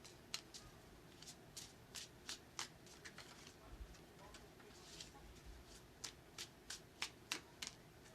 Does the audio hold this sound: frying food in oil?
no